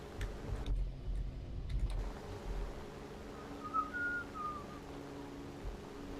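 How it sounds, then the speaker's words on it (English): A person whistles a short, faint tune over a steady engine drone while flying a P-39 in a War Thunder air battle, the whistle thin and brief against the background. "Just doing a little whistle because I'm too attached to it"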